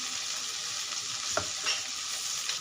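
Okra frying in hot oil in a pan, a continuous bright sizzle with one sharp knock and a few soft stirring scrapes, close and alone with no voices.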